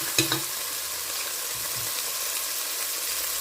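Garlic sizzles in hot oil in a pot for beef stew, a steady close frying hiss broken by a few soft scrapes and clinks of stirring near the start.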